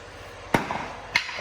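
Two sharp metallic hammer strikes on the nuts of a Jeep Compass rear CV axle, spaced about half a second apart, each a brief ringing clank over a quiet background.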